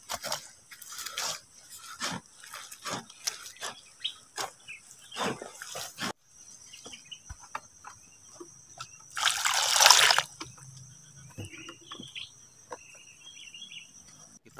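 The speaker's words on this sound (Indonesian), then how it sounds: "kita akan memberikan air" Water poured from a container into a tomato seedling soil mix, heard as one brief loud gush of splashing liquid alone, after a stretch of faint ticking and scraping sounds.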